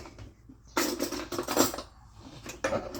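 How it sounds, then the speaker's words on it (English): Bowl being taken out and handled in a home kitchen while baking, a few sharp ceramic and metal clatters and knocks at close range, separated by quiet pauses. "And now let me get bowl."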